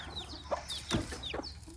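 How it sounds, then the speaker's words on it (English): A backyard chicken, one hen among a garden flock, clucks in a few short, soft bursts with brief pauses between them, fairly close and alone. "That's the only blue-faced chicken that I have."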